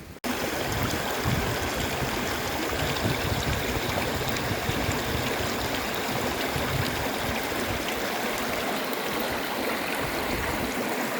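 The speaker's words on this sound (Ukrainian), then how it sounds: "Дивіться, друзі, яка тут чистенька водичка." Clear water of a mountain stream near Vorokhta rushes steadily and loudly, a continuous broadband burble close by with no talk over it.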